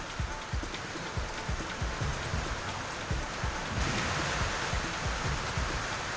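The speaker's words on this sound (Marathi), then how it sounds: "वादळी वाऱ्यासह जोरदार पाऊस झाला" Heavy unseasonal rain during a storm with strong winds in Barshi, Solapur, falling as a steady dense hiss with scattered louder drops and patters striking nearby surfaces.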